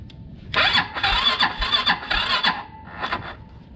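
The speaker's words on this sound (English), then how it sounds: "And then hit the starter button" An MSA 400 engine is cranked by its starter button: close, loud grinding cranking pulses run for about three seconds without catching, ending in a short extra burst, with no voices.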